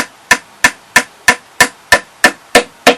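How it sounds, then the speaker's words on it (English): A small tack hammer strikes beehive frames with foundation in a steady run of ten sharp, loud, evenly spaced taps, close and alone. "a little tack hammer"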